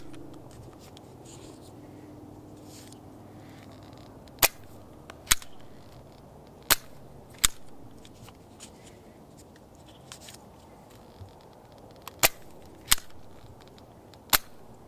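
A Nerf Elite Doubledown blaster fires foam darts in sharp, isolated snaps, around nine shots spaced irregularly over a quiet background with faint handling and rustling between them.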